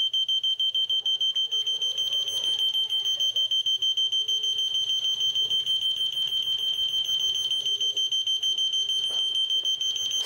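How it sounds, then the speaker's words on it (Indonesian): A parking sensor simulator's buzzer beeps in a rapid, continuous high-pitched pulse, steady and fairly quiet throughout. "LED dan buzzer akan menyala berkedip"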